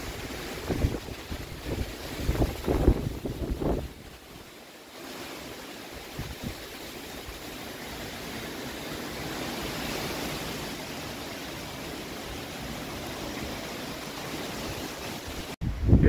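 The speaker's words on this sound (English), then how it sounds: "It's pretty breezy." Breezy wind rushes across the microphone on top of Tinker's Cliff along the Appalachian Trail, a steady, noisy roar with a few louder gusts and thumps at the start, and no voices.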